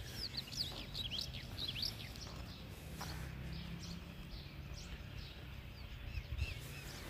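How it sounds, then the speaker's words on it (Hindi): Birds chirp and tweet in the early morning in Lahore, a scatter of quick, high calls repeating through the scene at moderate distance over a low background rumble. "और परिंदों की जो चहचहाट है बैकग्राउंड के ऊपर, वो बहुत ही मज़ा दे रही है जी।"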